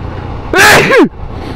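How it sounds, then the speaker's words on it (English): A single loud sneeze muffled inside a motorcycle crash helmet while riding in chilly May weather, a sharp burst about half a second long over steady road and wind rumble. "Is there anything worse than sneezing in your crash helmet?"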